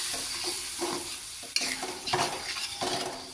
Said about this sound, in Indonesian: lalu kita tumis bumbunya ya